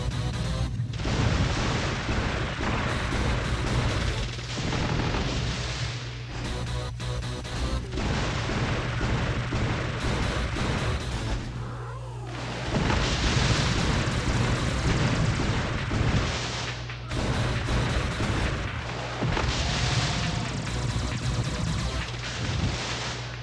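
Twin cannons fire repeatedly in the shooter Einhander: dense, loud bursts and booming impacts layered over a constant engine drone and game music, without a break.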